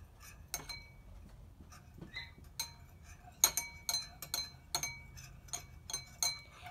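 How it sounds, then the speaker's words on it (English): A metal spoon clinks against the sides of a container while stirring honey and lemon, a series of faint, irregular light taps and chimes spaced roughly half a second apart over a quiet background. "So now I'm gonna get the spoon and I start mixing."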